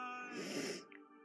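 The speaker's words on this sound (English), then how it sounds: "that's severely coughing" A single harsh, raspy cough burst from a girl lasting under a second, close and fairly quiet, followed by a short wheezy breath.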